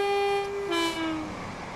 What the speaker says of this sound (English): The horn does definitely sound better on the 375 to the 377.